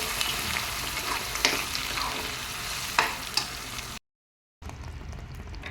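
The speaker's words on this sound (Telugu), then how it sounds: "ఇందాక మనం గ్రైండ్ చేసుకున్న టమాటాను ఉల్లిపాయ ఈ పేస్ట్ వేసుకోవాలి" Ground tomato and onion paste frying in a pan for egg omelette curry, a steady close sizzle with occasional stirring scrapes, cut by a brief dropout before the frying resumes.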